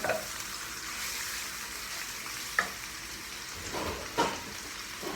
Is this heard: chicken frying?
yes